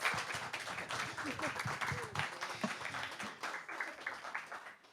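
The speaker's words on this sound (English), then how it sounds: "All right, a round of applause." Audience applause at a live talk event, a steady wash of clapping lasting several seconds at moderate level, with some voices mixed in beneath it.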